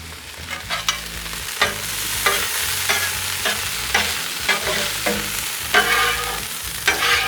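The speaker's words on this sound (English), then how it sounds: "Get rid of all that grease right there." Chopped-cheese meat sizzles on a Blackstone griddle while a spatula scrapes it again and again to push the grease away, giving steady frying with repeated close metallic strokes.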